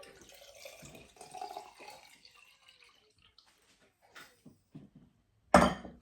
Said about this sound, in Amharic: ከዛ እንደተለመደው ውሃችንን እንጨምራለን።